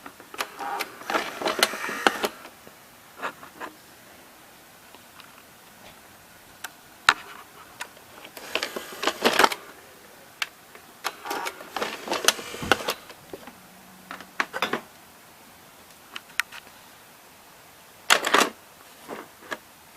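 A Fisher FVH-907 VCR ejects a cassette with a run of close mechanical clicks, ticks and short whirring bursts from the loading mechanism, quiet and irregular, with no talking.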